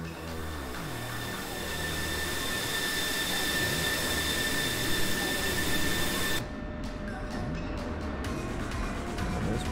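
An F-16 Viper fighter jet taxis in the DCS flight simulator, its engine droning steadily loud with a high whine that changes tone partway through, and no voices.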